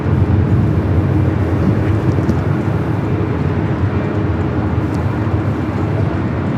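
A jet airliner at Los Angeles International Airport, heard as a steady, loud, broadband roar that holds evenly throughout with no pauses.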